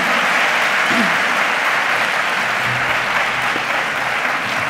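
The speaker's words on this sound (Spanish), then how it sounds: "Fuerte aplauso para ella" A loud, sustained burst of audience applause, dense clapping filling the whole stretch without pause.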